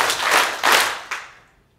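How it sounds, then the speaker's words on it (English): A small group claps hands together in a workshop exercise, with three bursts of applause-like clapping that rise, overlap and fade, the last one shorter and trailing off into quiet. "then we do the clapping"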